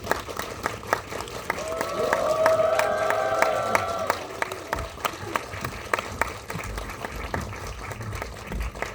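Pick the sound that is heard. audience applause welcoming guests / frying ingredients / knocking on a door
audience applause welcoming guests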